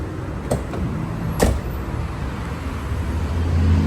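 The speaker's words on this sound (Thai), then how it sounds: "สั่งล็อกที่รีโมทก็ได้นะครับ สั่งคลายล็อกนะครับ" Remote locking and unlocking of a Hyundai H-1 van produces two sharp, close mechanical clicks about a second apart over a low ambient outdoor rumble.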